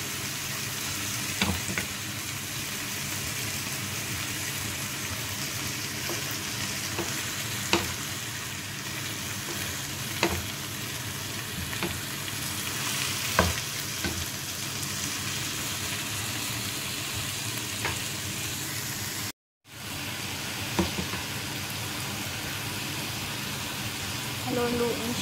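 Sliced bitter gourd (ampalaya) sizzles steadily in hot oil in a pan, with periodic scraping taps of a spatula as it is stirred, continuous and close, broken once by a brief gap.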